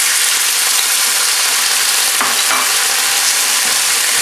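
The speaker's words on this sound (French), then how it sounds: "La sauce que nous allons faire mijoter maintenant une petite minute" Sichuan chicken sauce simmering and sizzling steadily in a pan, a loud, continuous frying hiss with faint stirring scrapes, no voices.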